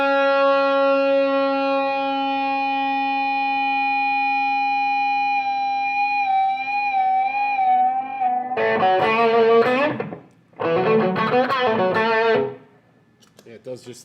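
An electric guitar played through an overdrive pedal with echo sustains long, bending held notes, then breaks into two loud strummed bursts separated by a short gap, with repeats trailing behind.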